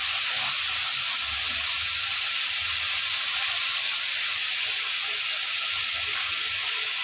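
Garlic frying in a pan gives a loud, steady sizzling hiss that runs the whole time without a break, with no talking.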